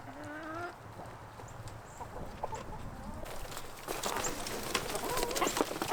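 Hungry chickens clucking at a freshly filled trough on a pig farm, a busy flock chattering and pecking at moderate distance, growing denser and louder toward the end, with other birds mixed in.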